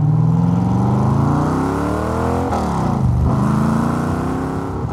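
A matte black Nichols N1A sports car engine revs up and down in sweeping loud rises and falls, close by, with a deep throaty tone and no talking over it.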